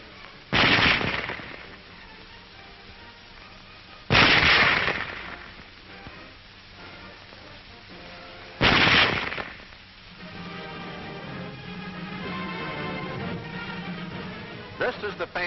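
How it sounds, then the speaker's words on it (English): A German Model 98K bolt-action rifle fires three loud, booming shots about four seconds apart, each followed by a short decay, with someone narrating in between on a dull, muffled old recording. "Loading and firing the Model 98K is the same as our own Springfield"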